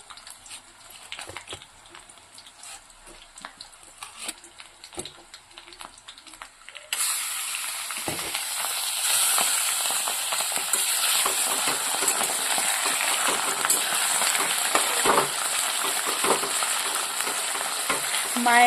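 Meat pieces go into hot oil in a pan: soft scattered ticks and pattering give way to a sudden, loud, sustained sizzle and hiss that continues steadily to the end.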